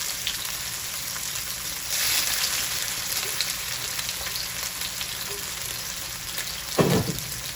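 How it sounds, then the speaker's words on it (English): Onion and scallion fry steadily in a pan, a constant crackling sizzle with a brief louder burst and a utensil knock near the end. "So that is frying up nicely."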